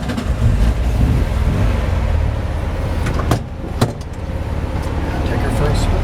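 1994 VW Type II bus engine running after being started with the key, a loud low rumble and idle heard from inside the cabin, with a couple of sharp clicks and a voice talking over it.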